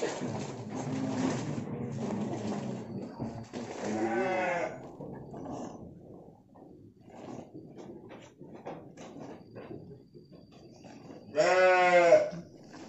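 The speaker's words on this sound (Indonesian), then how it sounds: "Kita melihat antara kambing sehat dan kambing yang nggak sehat." Goats at an agricultural Islamic boarding school farm bleat close by, several loud wavering calls at the start, middle and end, with quieter pen noise in between.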